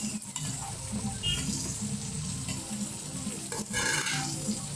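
Mackerel pickle cooks in a pan with a soft, steady sizzle and occasional stirring scrapes, fairly quiet and close.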